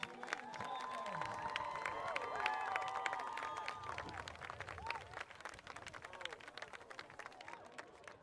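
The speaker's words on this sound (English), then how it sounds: "big round of applause for all you graduating Tigers" A crowd at a Tigers vs Hurricanes football event applauds graduating Tigers players, a broad wash of clapping and cheering with tonal voices or whistles in the first half, continuing more thinly to the end.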